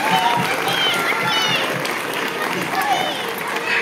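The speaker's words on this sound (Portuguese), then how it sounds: "eu queria pedir uma grande salva de palmas para eles." Crowd applause at the outdoor opening of a Christmas village in Vila Real de Santo António, Portugal, a steady patter of clapping with some cheering, heard alongside a speaking voice.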